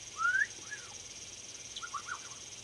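Pet birds calling indoors: a bright chirp and a few short whistled notes, then a quick cluster of calls, faint and fairly near against a quiet room.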